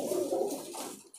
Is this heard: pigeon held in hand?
yes